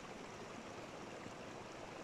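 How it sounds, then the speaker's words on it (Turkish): Waterfall fed by water running down from Kavaklı Mountain on a winter camping trip, a steady, dense rush of falling water that stays even and close throughout, with no voices over it. "Şelaledeyiz. Yukarıda su Kavaklı Dağı'ndan geliyor."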